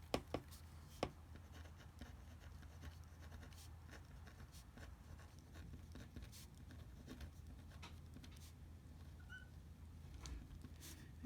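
Pen writing on a sheet of paper for a math worked example, a steady soft scratching and rubbing with a few sharp taps, close and quiet, with no talk.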